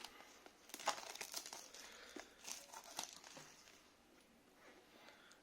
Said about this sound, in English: let's tear the plastic and see, and let's unbox it